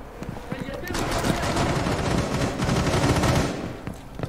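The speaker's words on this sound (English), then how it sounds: "I was getting shot from somewhere." Rapid automatic gunfire from the Rainbow Six Siege video game, loud and sustained for several seconds with dense bursts of shots; a voice is faintly present beneath the shooting.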